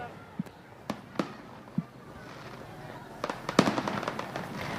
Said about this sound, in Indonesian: warna-warni kembang api saat ini sudah menghiasi langit di daerah Monas